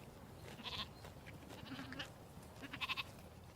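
Small black or white sheep of a Moroccan mountain breed bleat in a village, with a few short, thin calls at moderate distance over low background noise.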